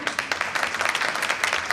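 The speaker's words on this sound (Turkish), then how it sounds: "Bu alkış sizlere, güzel yüreğinize" An audience at an outdoor balloon-release event against violence toward women applauds, a dense, lively patter of many hands clapping close and steady throughout.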